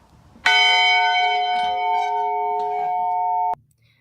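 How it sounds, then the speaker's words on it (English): A victory bell rings once with a sharp strike, then sustains a bright, clear tone for about three seconds before it is abruptly damped, loud and alone. "the ringing of the victory bell"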